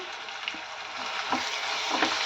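Onion, fenugreek and turmeric fry in oil for a tomato methi curry, giving a continuous, fairly soft crackling sizzle with a few faint stirring scrapes and no voices.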